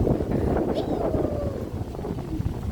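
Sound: strong wind

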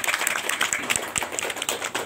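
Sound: audience clapping

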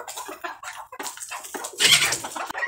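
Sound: chickens drinking calcium water

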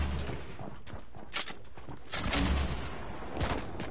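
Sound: rocket launcher fire in Fortnite video game

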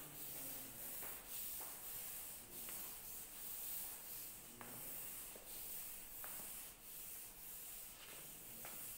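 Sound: rubbing out writing on a board

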